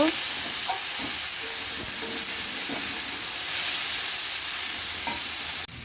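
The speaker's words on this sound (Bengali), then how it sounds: "ভালো করে একটু সুন্দর করে ভেজে নিব" Food frying in a pan during home cooking of bottle gourd with prawns: a continuous hissing sizzle with soft stirring scrapes, steady and close, then a sudden drop at the end.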